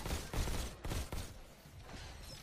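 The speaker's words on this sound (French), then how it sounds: "je suis en train de tirer les deux côtés en fait" Gunfire in the VR shooter game Robo Recall, a dense rumbling burst of shots and booms in quick succession that fades into a lingering noisy wash, loud and close with no talking.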